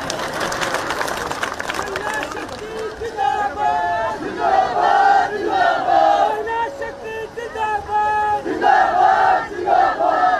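A large crowd at a live public event in Rampur with the Chief Minister cheers loudly, voices rising in rhythmic, chant-like bursts of shouting that swell and fall over a busy background.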